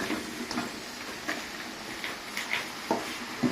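Toasted bread cubes being stirred into chilli masala in a pan: a spoon scrapes and clinks against the pan in irregular strokes over a faint, steady sizzle, with no talking.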